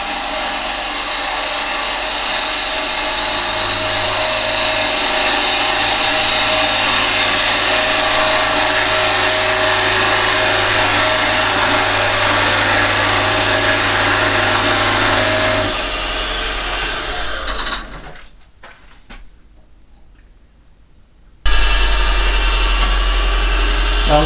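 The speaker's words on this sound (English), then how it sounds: "I'm just going to use a peel and cut with my skew" Skew chisel peeling and cutting a tenon on a box blank spinning on a wood lathe, a loud steady motor hum with bright cutting hiss that cuts off, drops to near quiet, then the lathe hum returns abruptly.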